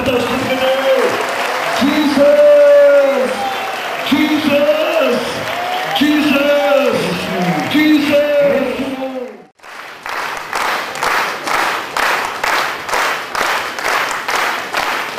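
A church congregation claps along in a steady rhythm of sharp, close hand claps, taking over right after singing and voices fade out.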